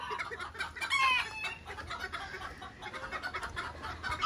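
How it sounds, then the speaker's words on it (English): Bantam chickens, a rooster kept with three hens, cluck steadily at close range, with a brief rise of squawking near the start and continuous low farmyard bustle throughout; no talking. "another rooster down here, and he's got three hens in here with him"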